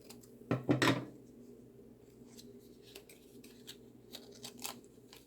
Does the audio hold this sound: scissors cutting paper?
yes